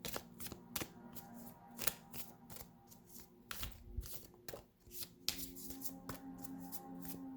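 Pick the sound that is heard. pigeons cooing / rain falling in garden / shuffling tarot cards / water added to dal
shuffling tarot cards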